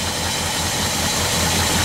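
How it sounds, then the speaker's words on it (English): A 1976 Ford F-250 engine with a new Holley carburetor idles steadily at about 600 RPM, a loud, even low rumble with a constant drone and no speech over it. "you can hear how this engine runs now with the new carburetor. All right, so we got an idle right now."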